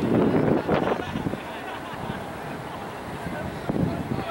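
Strong wind buffets the microphone at an outdoor college ultimate frisbee field behind a school, a steady loud rush with gusts swelling at the start and near the end, while voices talk faintly underneath.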